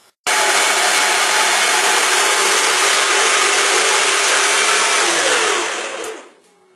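Kitchen blender grinding soaked soybeans with water for homemade tofu, a loud continuous whirring roar that starts abruptly, holds steady for about six seconds, then winds down and stops.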